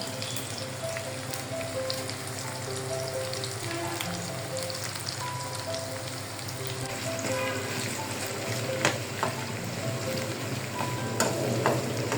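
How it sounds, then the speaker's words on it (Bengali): Steady oily sizzling of onions deep-frying in a pan until crisp and reddish, with occasional scraping and stirring clicks throughout, close and continuous. "পেঁয়াজটাও ঠিক একইভাবে রসুনের মতো খুব মুচমুচা করে ভেজে দিতে হবে"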